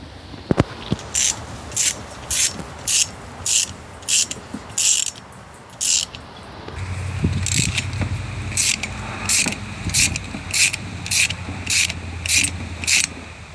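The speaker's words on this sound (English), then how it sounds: "Then I'm gonna put this through and just thread it on until it bottoms out." Bolt threaded into a socket for valve guide removal, heard as a regular series of short metallic ratcheting bursts, close, with a low mechanical rumble joining partway through.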